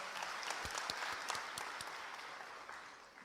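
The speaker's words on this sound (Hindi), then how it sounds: "जोरदार तालियों से अभिनंदन" An audience at a government loan distribution ceremony with the chief minister applauds loudly, a continuous dense wash of clapping from a large crowd with a few sharper nearby claps, slowly fading by the end.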